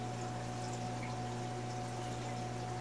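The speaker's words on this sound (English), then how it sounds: "I stick it right in front of the power head, pour some water through it" Water poured through a tube in front of an aquarium power head, a steady, even liquid wash with a constant low hum, heard while setting up a drip line to acclimate new fish.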